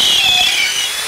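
A drill bores slowly and carefully through material near a pipe elbow, giving a steady, close, high-pitched whine that holds without pause for about a second.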